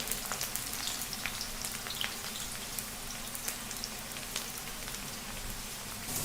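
A batch of onions crisping in hot oil keeps up a continuous soft sizzle, fine spattering pops scattered through a gentle hiss, close but fairly quiet.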